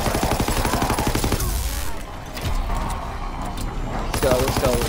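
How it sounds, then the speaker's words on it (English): Rapid automatic gunfire rattles in Call of Duty WW2 on the Darkest Shore map, loud and dense at the start and again at the end, with a quieter gap in between. "Fucking shoot the gun!"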